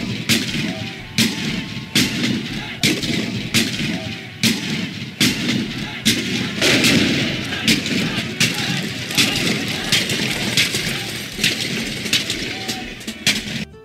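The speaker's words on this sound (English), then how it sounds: "even cannon firing demonstrations" Cannon fire at a Fort Selden historic military reenactment in New Mexico, heard as a run of sharp, loud booming reports spaced through the clip over a steady outdoor background, with voices present.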